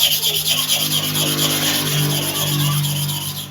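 The inner surface of a Kiki stainless clipper blade is sharpened at a 45-degree angle with back-and-forth strokes, making a loud, close, continuous metallic rasping with an even rhythmic pulse and a steady motor-like hum beneath.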